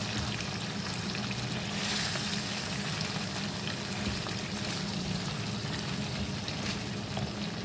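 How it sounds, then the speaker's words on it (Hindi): Mutton karahi sizzles and fries steadily in a pan, a dense, constant close-up crackle and hiss with no voices over it. "यहाँ पर मैं इसको 4 से 5 मिनट भूनूंगी।"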